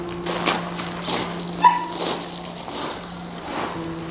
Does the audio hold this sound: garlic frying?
no